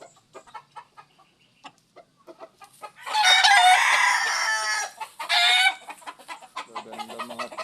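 Breeding roosters and hens: a loud rooster crow stretches over a couple of seconds and a second shorter crow follows, set among soft, rhythmic clucking before and after.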